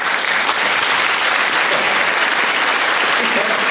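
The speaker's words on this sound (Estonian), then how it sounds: "Nii et ma palun kestvat aplausi." Sustained, loud applause from a large audience at a school dance competition, a thick, continuous wash of clapping that stays even and unbroken throughout.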